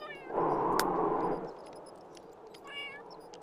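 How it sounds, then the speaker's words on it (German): A single drawn-out cat meow from The Sims 3, loud and close, followed by faint game background sounds and brief chirpy tones. "bist du eine Katze, Eike?"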